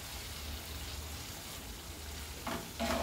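Green chillies and tamarind sauté in hot oil for a chilli tamarind pickle, a faint, even frying hiss with a couple of brief stirring scrapes toward the end.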